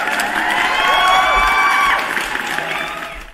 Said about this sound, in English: Let me give you guys a round of applause.